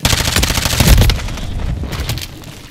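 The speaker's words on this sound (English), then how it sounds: "I spawned with somebody shooting at me." Gunfire bursts ring out in a multiplayer shooter match, dense and loud at first with a heavy thump near the middle, then thinning to scattered shots over the remaining seconds.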